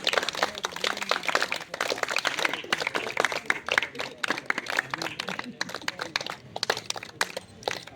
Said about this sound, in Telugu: క్లాప్స్ నానా